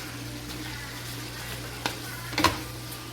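Beef stir-fry with green beans stirred in a pan, with a steady low sizzle and a couple of brief clinks from the utensil, faint and close.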